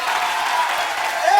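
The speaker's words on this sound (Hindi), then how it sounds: "तुम तालियां क्यों बजा रहे हो?" Studio audience clapping on a comedy talk show, a brief steady burst of applause heard alone.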